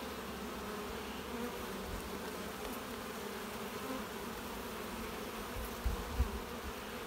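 Honey bees hum steadily around an open hive holding pollen and capped brood, a continuous low drone with a few brief louder bumps near the end.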